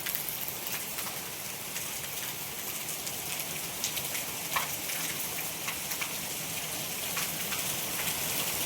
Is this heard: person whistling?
no